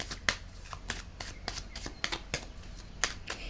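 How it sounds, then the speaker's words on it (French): Playing cards being handled and laid down on a table, heard as a close series of soft, papery slaps and flicks at an uneven pace, with no clear talking. "Je vais déposer une carte ici."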